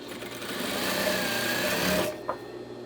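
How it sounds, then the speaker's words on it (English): A sewing machine stitches a straight hem on a drapery panel, a loud, steady whirring run for about two seconds that then stops abruptly, followed by a single soft clack. "let's just sew a nice straight line"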